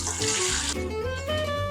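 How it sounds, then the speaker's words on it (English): Chicken stock poured into a kitchen colander, a steady close splashing stream of liquid running for the whole moment, with a brighter rushing burst early on. "Carefully pour your stock into the colander."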